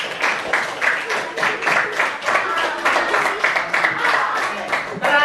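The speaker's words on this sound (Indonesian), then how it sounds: "Tepuk tangan untuk." Schoolchildren in an elementary classroom clap together in a rhythmic, fairly loud patter of handclaps lasting several seconds, with a few voices mixed in.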